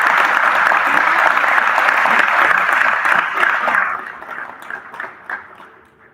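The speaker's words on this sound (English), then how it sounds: "Please give a round of applause for Shields and Shields." Audience applause at a Job Corps graduation ceremony, loud, dense clapping from a large crowd that holds steady for about four seconds, then thins into scattered claps and fades out.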